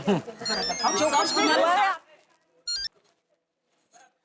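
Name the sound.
telephone ringing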